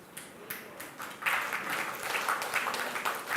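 Audience applause in a church during a Filipino pastor's sermon, a fairly faint, steady wash of clapping that swells slightly partway through and continues without voices.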